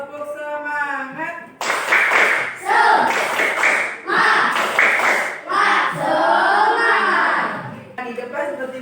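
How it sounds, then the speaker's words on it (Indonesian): Classroom of children doing a rhythmic Indonesian clapping chant, with bursts of clapping and group chanting alternating in a patterned rhythm, a voice speaking at the start and end. "Oke, tepuk semangat"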